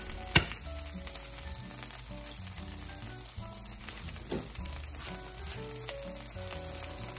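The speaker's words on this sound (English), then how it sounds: "Add extra cooking oil and crack in an egg." Egg crackling and sizzling in extra hot cooking oil in a wok for pad thai, a steady close frying hiss with occasional sharp pops and spatters, no voices.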